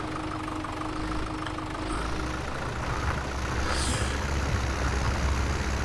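Powerful tractor engine working a field in a farming video game, a steady low droning rumble that holds constant and close throughout, with no voices.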